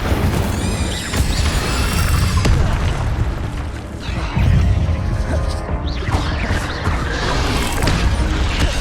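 Incendio fire spell cast in Hogwarts Legacy, loud whooshing fire bursts and booming impacts overlapping with crashes and clatter from the game's combat, continuous and close without a break.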